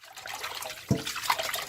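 Boiled mung bean sprouts being rinsed in cold water, with a soft steady trickle and splash of running water and one brief louder slosh midway, close and fairly quiet.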